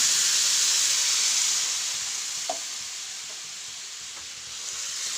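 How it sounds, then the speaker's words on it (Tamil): A steady, loud hiss of sizzling fills the whole clip as a cup of water hits a hot pan of turmeric-spiced potato masala, with a faint clink or two from a utensil. "இப்போ இதில் 1 கப்பு தண்ணி சேர்த்துக்கலாம்."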